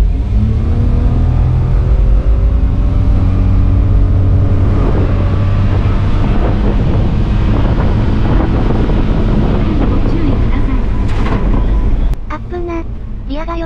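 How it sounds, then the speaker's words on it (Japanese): A Daihatsu Hijet mid-engine kei truck accelerates on a dry road, its engine climbing in pitch under heavy wind buffeting, then the engine drops away abruptly near the end as it brakes hard. "せっかくだし、前回加速からの、急制動テストを、ここで見ていってくれ。"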